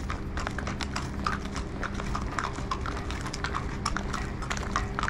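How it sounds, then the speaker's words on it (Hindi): A horse is led along a city street near a racecourse in Kuwait, its hooves clip-clopping in a quick, steady rhythm against constant background noise. "मोदीर जी, महेंद्र जी यहाँ पर कोई सिटी में घोड़ा लेकर जा रहे हैं आगे।"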